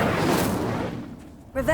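A fiery spell blast in Hogwarts Legacy, a loud booming burst that roars and fades over about a second before a voice cuts in at the end.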